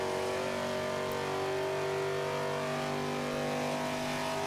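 A C Class Nissan GTR Black Edition roars steadily around an oval track in Forza 5, its engine holding a loud sustained tone at speed with no talking.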